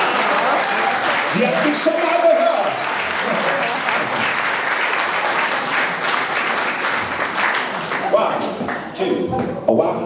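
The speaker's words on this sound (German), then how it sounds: "Ja, das ist ein Applaus wert" Applause from a small audience at a jazz performance in a venue, lively clapping sustained throughout with a voice speaking over it.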